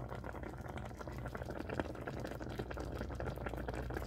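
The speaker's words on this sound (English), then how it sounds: "I can hear that it's bubbling." Cranberry sauce bubbles steadily as it cooks in a pot, with a continuous soft simmering hiss and popping that stays fairly faint and even throughout.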